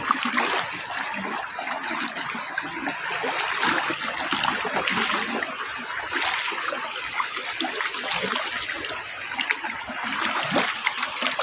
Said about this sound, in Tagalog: Yan po, malakas ang tubig.